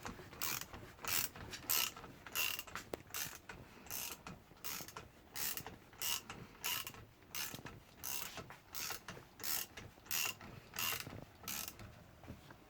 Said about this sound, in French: Et on va dévisser le ressort.